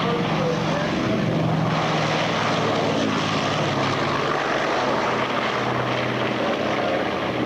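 A propeller aircraft engine drones in a loud, continuous roar with a steady hum, close and unchanging throughout, and a voice partly masked beneath it.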